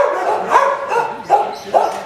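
Dogs barking at a pet resort's outdoor kennel runs in Weldon, California, three or four sharp barks spaced irregularly over a background of further barking and general noise, with voices faintly present.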